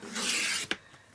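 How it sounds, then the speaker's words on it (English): A paper trimmer blade slides across card to cut it to size, one smooth rasping stroke up close followed by a short sharp snap as the cut finishes. "bring in your trimmer and then pop this into your trimmer and cut it at 6 inches"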